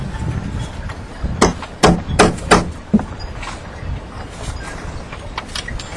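Four sharp metal-on-metal hammer strikes drive a snap setting tool against its base, peening a boat carpet snap into place, with a short pause between blows and a faint tap afterward over quiet room noise.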